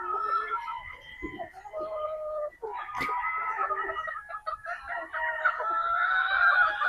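Possum Sweater gamefowl roosters crow repeatedly in overlapping calls mixed with clucking, fairly close and continuous, while a voice talks briefly under them.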